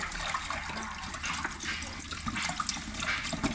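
Running water splashes and hisses steadily as an item near a generator gets washed under the flow, close by and fairly quiet, with no talk.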